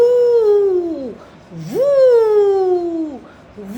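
A voice imitates the wind with two long, falling 'woo' howls, each swooping up and then sliding down, loud and close.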